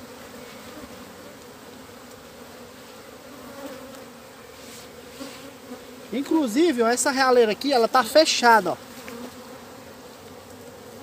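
Honeybees buzz steadily at an open beehive being worked for honey production, a colony without a queen and with sealed queen cells, the hum continuous throughout while someone talks over the latter part.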